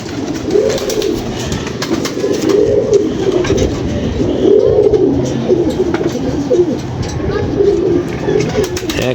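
Racing pigeons coo repeatedly close by, soft low throaty calls rising and falling in rhythmic bursts over a steady background murmur.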